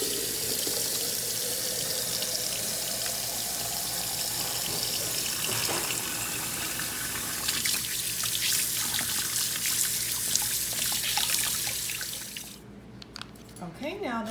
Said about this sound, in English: We need to wash our hands whenever we're baking or touching food.